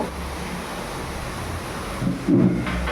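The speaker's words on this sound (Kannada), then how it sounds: "ಇವತ್ತಂತೂ ಸಖತ್ ಮಳೆ ಬರ್ತಾ ಇದೆ ನೋಡಿ ಸಖತ್ತಾಗಿ ಮಳೆ ಬರ್ತಾಯಿದೆ" Heavy monsoon rain pours steadily as a dense wash of noise, with a deep rumble of thunder swelling near the end.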